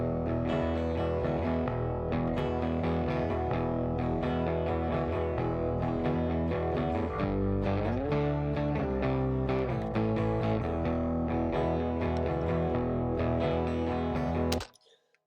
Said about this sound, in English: So that's all the guitar parts.